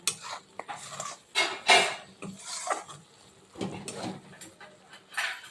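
Sesame seeds frying in a pan are stirred continuously with a utensil, giving repeated scraping and clinking strokes in an irregular rhythm, close and moderately loud, with no talking.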